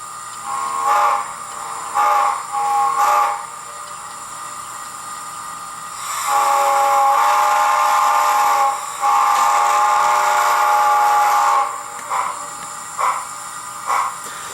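A brass HO-scale Boston & Maine P-2-c steam locomotive with a sound chip, running on a layout: repeated whistle blasts, short ones early and long sustained ones in the middle, over steady chuffing and engine sound with no talking.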